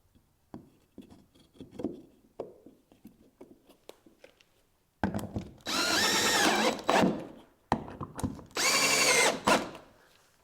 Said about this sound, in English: now I'll just put the Forstner bit in and we can start drilling